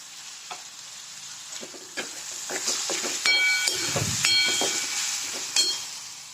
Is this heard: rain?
no